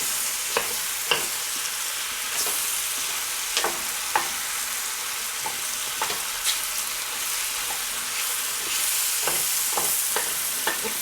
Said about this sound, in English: Try to get this butter and mushrooms and onions all mixed in together.